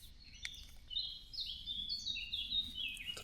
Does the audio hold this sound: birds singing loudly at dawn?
yes